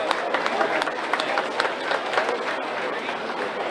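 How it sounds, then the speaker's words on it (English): Audience applauding for the auctioneers at the 2025 Wayne County 4-H livestock auction, a steady wash of dense clapping with a few whoops, filling the hall. "Let's give them a round of applause."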